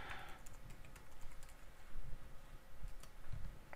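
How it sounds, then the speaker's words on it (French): Rapid keystrokes on a computer keyboard as an email address is typed, a close, quiet run of irregular clicks and taps continuing throughout without speech. "vous saisissez l'adresse email, vous cliquez sur suivant"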